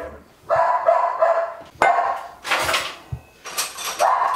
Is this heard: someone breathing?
no